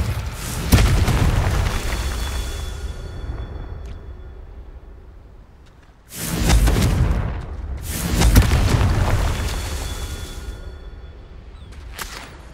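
Heavy, booming fire-spell blasts from a Hogwarts Legacy boss fight against a Graphorn come as three big explosive bursts, each with a rumbling tail, plus a sharp crack near the end.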